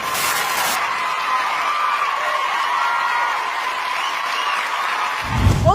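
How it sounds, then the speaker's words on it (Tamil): Judges give a dance performance a standing ovation, producing sustained, dense applause that stays steady throughout before a brief louder thump at the end. "ஜட்ஜஸே நின்னு கைத்தட்டி என்ஜாய் பண்ணிருக்கீங்க"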